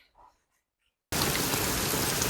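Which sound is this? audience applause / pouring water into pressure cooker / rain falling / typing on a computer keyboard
rain falling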